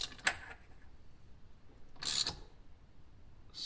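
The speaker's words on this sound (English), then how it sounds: "I'll put it on the ratchet and just" A ratchet wrench tightens a bracket bolt while a door assist kit is installed on a Can-Am X3; two short bursts of rapid metallic clicking, about two seconds apart, with quiet in between.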